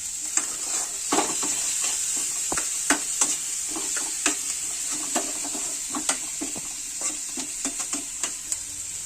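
Onions sizzle steadily in a pan while being fried golden for homemade soybean chilli, with sharp scraping stir clicks scattered throughout, close and fairly loud.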